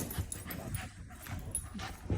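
A dog whimpering and softly yipping during a play fight, faint short cries scattered among low snuffles and scuffling, fairly close but quiet.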